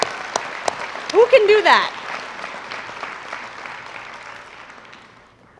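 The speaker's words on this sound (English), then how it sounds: "Let's give them a round of applause." Applause at a university commencement ceremony, with a voice speaking over it briefly near the start; the clapping swells, holds for a few seconds, then gradually fades to quiet.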